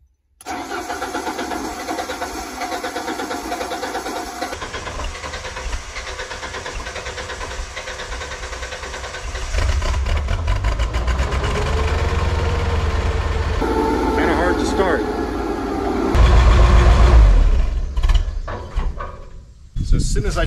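A boom lift's engine cranks, catches and settles into a mid-pitched running drone, then revs up louder toward the end before dipping, heard close by.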